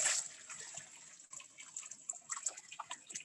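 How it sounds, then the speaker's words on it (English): Water splashes and trickles into a tank in a low, broken stream of pours and small drips, fairly quiet and without voices. "So we're gonna dump more water and we're gonna incorporate the valve now."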